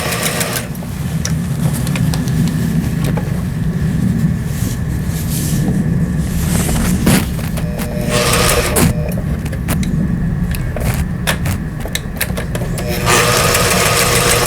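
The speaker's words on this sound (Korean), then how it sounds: "지그재그 바느질 정상 작동되고 있는 이런 모양입니다" A restored Brother GA15 domestic sewing machine runs a zigzag stitch, its motor and needle drive making a continuous close mechanical whir with small clicks and shifts in pace, alone without speech.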